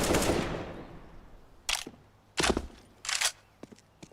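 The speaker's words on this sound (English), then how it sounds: "Throwing flashbang." Flashbang grenade in the game CS:GO: a loud broadband blast fading over the first second and a half, then three sharp, close bursts in a row followed by a few faint ticks, with no voices.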